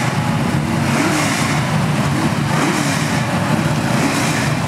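At a grudge drag race, a G-body car and a big-body Mustang with small-block engines rev hard at the line. The roar is loud and continuous, with crowd and track noise mixed in.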